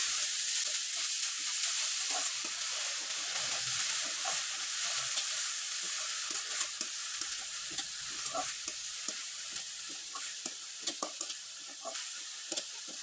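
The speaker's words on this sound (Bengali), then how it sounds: "আর নারকেল কোড়ানো দেওয়ার পরে খুব ভালোভাবে নেড়েচেড়ে নিতে হবে" Grated coconut filling for rice-flour pitha stirred steadily in a hot pan, a continuous sizzle with soft scraping strokes close by, no voices.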